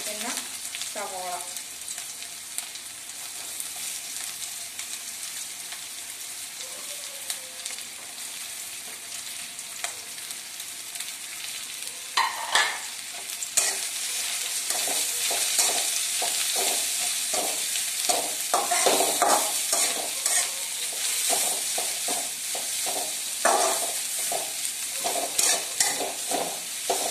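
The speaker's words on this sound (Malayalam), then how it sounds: "നമുക്ക് സവോള ആഡ് ചെയ്ത് കൊടുക്കുകയാണ് നമ്മൾ അരിഞ്ഞെടുത്തിരിക്കുന്ന സവോള" Chopped onions fry in a pan for a Kerala-style chicken varattiyathu, with a steady sizzle that grows louder and denser about halfway through, broken by scraping stirs and clinks.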